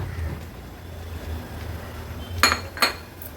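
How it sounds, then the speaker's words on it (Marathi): A Konkani-style mackerel curry is gently stirred in a pot, with a quiet background hum and then two sharp metallic clinks of a spoon against the vessel near the end. "कालवण अगदी अलगदपणे हलवून घेते।"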